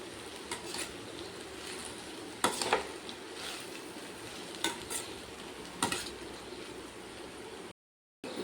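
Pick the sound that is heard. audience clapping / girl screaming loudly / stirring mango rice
stirring mango rice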